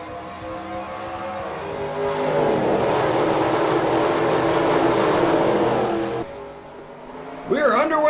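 Engines roar as race cars accelerate at the green flag of the Daytona 500 in the NASCAR Racing 2003 video game, a steady rising drone that drops off near the end, with a voice talking over it.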